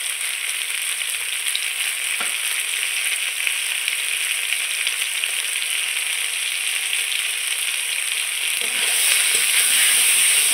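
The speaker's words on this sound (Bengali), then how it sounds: "কচুরমুখীগুলোকে আমি একটু লবণ হলুদ দিয়ে ভেজে নেব।" Colocasia (kochurmukhi) pieces fry in oil with salt and turmeric, making a steady, dense hiss that continues unbroken and grows slightly louder near the end, with one brief knock along the way.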